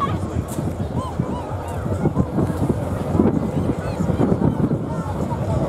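Strong wind buffets the microphone at Biggin Hill airfield during the Festival of Flight air show, a steady low roar with gusts swelling toward the end and a honking call rising briefly above it.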